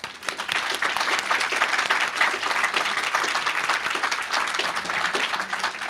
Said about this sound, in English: a round of applause for you all to be here.